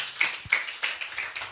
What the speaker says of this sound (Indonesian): tepuk tangan dulu bagi Bapak Yahweh